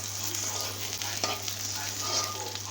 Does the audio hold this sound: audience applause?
no